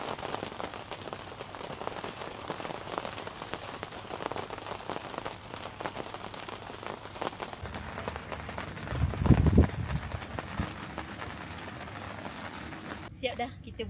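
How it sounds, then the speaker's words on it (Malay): Rain falling on a garden campsite, a steady dense patter on surfaces throughout, with a brief louder thump midway; people talk over it. "Tapi hujan rahmat kan."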